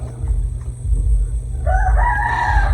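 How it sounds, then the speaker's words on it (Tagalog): A rooster crows in the distance, its drawn-out, wavering call rising over steady low background rumble and lasting about a second. "nagtilaok na yung manok."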